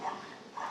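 Faint dogs yip and bark twice in the background, two short distant barks separated by a brief gap, with no talk.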